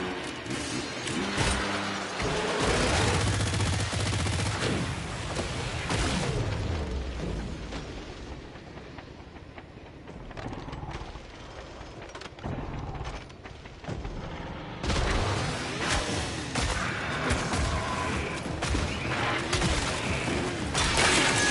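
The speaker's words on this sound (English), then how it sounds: "Don't worry, the turret's on our side." Automated turret blasting away in Killing Floor 3, a dense, continuous barrage of loud gunfire and booming impacts that rolls on nearly the whole time, dipping briefly midway before surging back.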